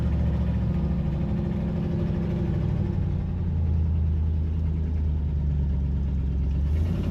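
An old car's engine runs steadily after sixteen years off the road, a low, even rumbling idle with a faint whir, close and continuous with no voices over it.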